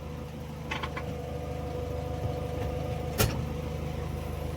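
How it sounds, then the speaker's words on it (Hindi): JCB machine engine running while driven on a punctured tyre, a low steady diesel rumble throughout with a few faint clanks and one sharp knock near the end. "पंचर गाड़ी में दौड़ा रहे हैं।"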